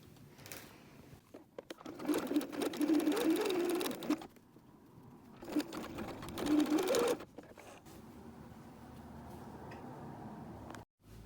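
A sewing machine stitching the seam of a change purse, two steady whirring runs of needle clatter with a pause between them, heard close and alone.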